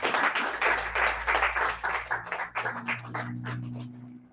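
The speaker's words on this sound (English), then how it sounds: "Please, a round of applause for Angela Gerono." A short burst of audience applause at a Toastmasters club meeting, dense clapping that thins out and fades over a few seconds.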